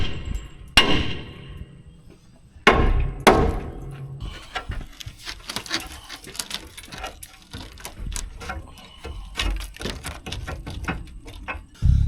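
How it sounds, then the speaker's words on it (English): A hammer striking metal parts on a heavy haul truck with a V12 engine, loud sharp clangs at irregular intervals over a busy background of smaller knocks and rattles, close by in a workshop setting. "I'm gonna get a hammer."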